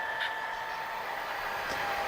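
An HO scale model train, a proto-freelance Western Pacific DCC layout, rolls through a trestle scene. It gives a faint, steady running hum with a thin whine that holds throughout, quiet and continuous, with no voices.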